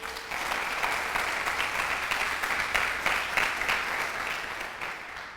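A church congregation claps together in praise, a dense, steady wash of applause filling the room at an even level throughout.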